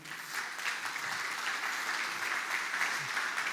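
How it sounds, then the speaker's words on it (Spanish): Steady applause from a church congregation, a dense patter of clapping that continues throughout at moderate, somewhat distant loudness, with no talking. "Dale un aplauso al Señor."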